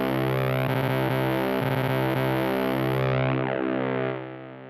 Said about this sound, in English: So yeah, that's the Mellotron.